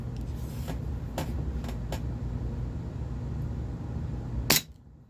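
HFC DarkHawk 6mm gas blowback airsoft pistol firing BBs, several sharp cracking shots at uneven intervals over a steady low hum, with one last louder shot near the end before things go quiet.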